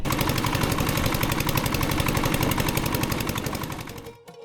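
Engine of a small reserved boat crossing the Brahmaputra river in Kurigram, a loud, close, rapid chugging putter with a fast regular beat that fades out at the very end.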